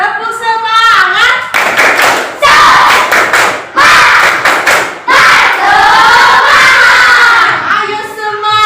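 A group of children and adults performs the 'tepuk semangat' clapping chant, loud close rhythmic hand claps in bursts alternating with energetic shouted chanting voices, repeated several times.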